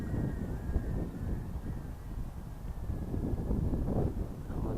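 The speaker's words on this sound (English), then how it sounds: "Immediately the wind is trying to take her away." Steady wind buffets the microphone outdoors during the maiden flight of a Redpaws R010 RC aircraft, a continuous low rumbling roar with a faint tonal whine running through it.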